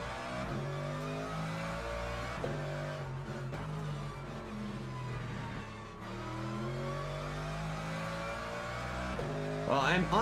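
Race car engine in Le Mans Ultimate rising and falling through revs and gear changes, a steady loud drone with downshift blips and a few pitch sweeps near the end.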